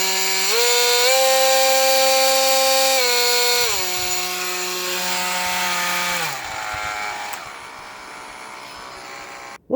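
A SnapFresh cordless oscillating multi-tool runs steadily with a bright, buzzing whine, then drops to lower speeds in distinct steps and winds down near the end. It is loud and close, with no talking.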